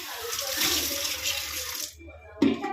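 Water gushes steadily from a tap for about two seconds, then shuts off, followed by a brief clatter.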